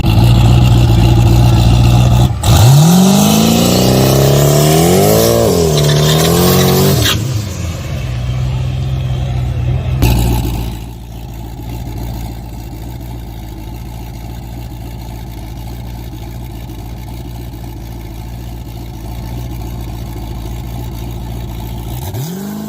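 A Tesla on a prepped drag strip with sticky rubber, loud and close: a rising whine sweeps upward as it launches, then fades into a steady rumble of other traffic and engines.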